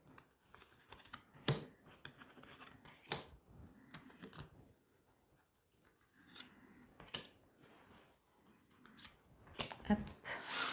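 Tarot cards are drawn and handled, with soft rustling, sliding and occasional sharp card snaps at irregular intervals, quiet and close.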